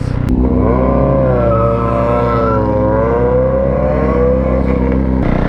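A Kawasaki Ninja 636 sport motorcycle on a warm-up lap, its engine note holding steady and loud throughout with slight pitch rises and falls as the rider works the throttle, up close and with no talking.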